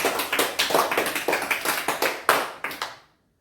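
A small group of children clap during a kids' game results announcement, a close, lively run of quick overlapping claps with a few sharper accents, stopping abruptly near the end.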